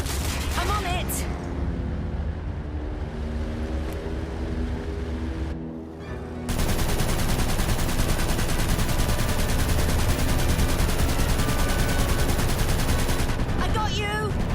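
Rapid automatic gunfire and explosions in the aerial combat video game Aviators form a dense, continuous roar that briefly dips, then surges back louder and sustained, with a voice speaking amid the din.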